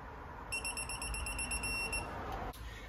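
A rapid series of high-pitched electronic beeps from a digital torque wrench, lasting about a second and a half, over a steady low background hum, while tightening bolts on a Shelby Daytona.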